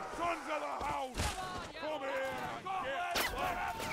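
Musket volleys crack out in a Napoleonic Wars line battle game, with a few sharp broadband shots standing out above constant shouted voice commands and harmonic game chatter.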